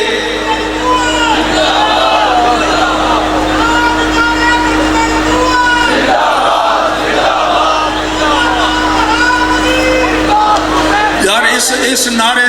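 A large crowd at an Islamic sermon roars religious slogans in unison, a loud, sustained mass of shouting voices that fills the space, with a voice rising over the din.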